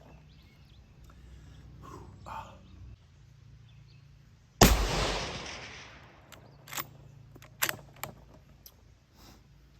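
A single loud rifle shot from a .224 Valkyrie loaded with Hornady Varmint Express 60-grain ammunition, fired from a bench, sharp and close with a short ringing decay, followed by a few faint clicks and small handling sounds.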